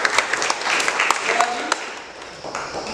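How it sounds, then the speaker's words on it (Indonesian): A classroom claps for a student, a short burst of scattered hand claps close by that fades out over a few seconds amid light chatter. "tepuk tangan buat Deo"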